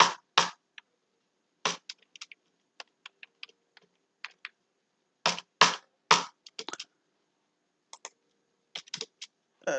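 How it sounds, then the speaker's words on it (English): Keys on a computer keyboard are pressed in short, irregular bursts of crisp clicks, close and clear, with repeated taps separated by pauses and no talking. "you just go for a backspace"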